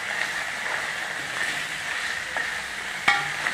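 Ginger garlic paste sizzles and fries in a pan while being stirred for crab masala, giving a steady soft crackle with a brief sharper clink of utensil near the end.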